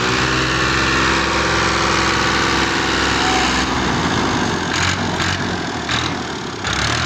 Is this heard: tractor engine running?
yes